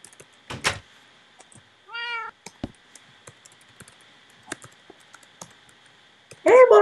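Minecraft cat meows in-game: a brief rising meow early on, then a short mewing burst near the end, between scattered clicks of keys over a quiet steady hum.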